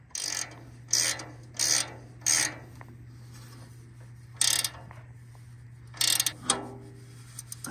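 A hand ratchet cranks a part down on a Bosch inverter heating system, making bursts of rapid clicking strokes with short pauses between them against a low steady hum, close and with no one speaking.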